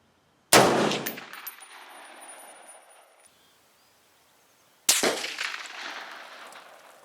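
Two sharp M1A rifle shots fired with iron sights several seconds apart, each a loud crack with a long ringing outdoor decay, the second followed by a trailing echo.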